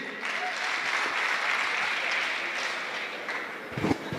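Sustained audience applause fills a hall after a presenter introduces the next speaker, a steady wash of many hands clapping at even loudness, with a brief voice near the end.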